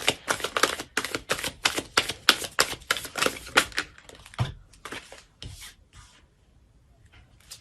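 A deck of tarot cards is shuffled by hand in quick, rhythmic rapid bursts of crisp flicking clicks that slow and thin out toward the end, heard close and alone.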